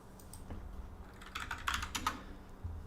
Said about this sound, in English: Just typing in Smith in Pro Football Reference right now.